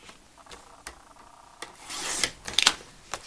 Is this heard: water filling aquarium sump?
no